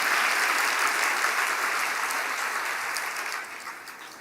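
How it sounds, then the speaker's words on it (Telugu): A church congregation applauding during a Sunday service, dense sustained clapping that gradually fades toward the end, with no voices over it. "ఇప్పుడు కొట్టాలి మీరు చప్పట్లు లెక్క ప్రకారం."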